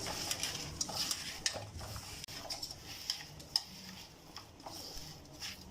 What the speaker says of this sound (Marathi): हळद मिक्स करून घ्यायचं.